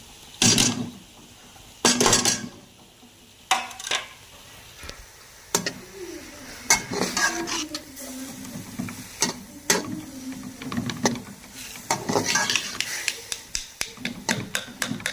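Vegetables stirred and cooked in a pan with black pepper and salt: intermittent clinks, knocks and scraping of a spoon against the pan in an irregular rhythm, close and fairly quiet.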